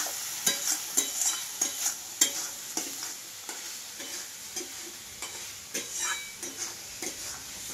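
Ginger-garlic paste frying with tomato in a pan for a tomato fish dish, a steady close sizzle punctuated by regular spatula scrapes and taps against the pan as it is stirred.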